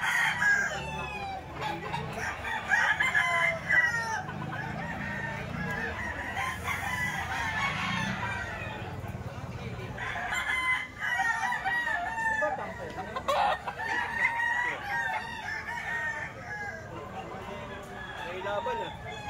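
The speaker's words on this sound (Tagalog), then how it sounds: "Ito manok pa ni Boss-Perry." Roosters crow repeatedly amid clucking chickens, some calls near and loud, others farther off, while someone talks over them.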